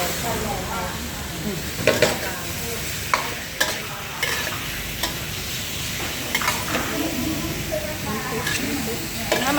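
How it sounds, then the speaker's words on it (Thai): Minced pork sizzles and hisses in a hot pan with a little oil, stir-fried for basil stir-fry, while a utensil scrapes and stirs, with occasional sharp clinks; a voice talks over it. "อันนี้เป็นการผัดกะเพรานะคะ"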